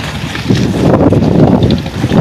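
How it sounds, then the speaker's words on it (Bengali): Strong wind from a violent storm in Chandpur buffets the microphone in a loud, continuous roar, with gusts surging over a rushing, watery background. "তো বাতাস ধীরে ধীরে কমতে কমতির দিকে যাচ্ছে"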